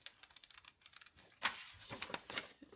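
Small scissors snipping around a paper picture, soft close-up clicks and crisp cuts in an irregular rhythm, faint and with no speech.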